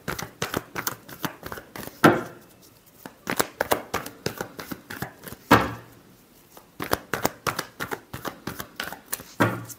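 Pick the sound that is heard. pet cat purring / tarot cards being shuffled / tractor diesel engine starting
tarot cards being shuffled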